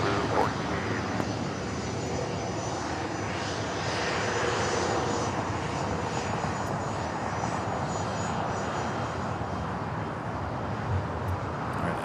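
Airliner on its takeoff roll from runway 25 right at LAX, a steady broadband engine roar that holds loud and unbroken for the whole stretch with no voices.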